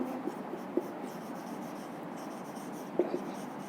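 A teacher writes an answer on a board with soft, scratchy strokes and a few light taps, quiet and close.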